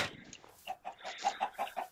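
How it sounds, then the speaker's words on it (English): Chickens in the Minecraft video game cluck in a short run of soft, evenly spaced clucks, fairly quiet and alone. "I guess it's just ducks now, or chicken."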